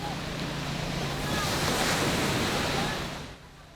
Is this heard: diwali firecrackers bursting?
no